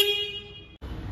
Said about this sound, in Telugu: హార్న్ సౌండ్ వినండి ఒకసారి.